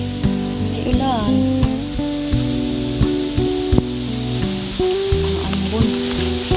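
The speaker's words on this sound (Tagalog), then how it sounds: "May ulan, Ming." Light drizzle falls outdoors in a garden with flowers and papaya trees, a steady soft patter of drops on leaves and surfaces lasting throughout, with people talking over it and a melody playing in the background.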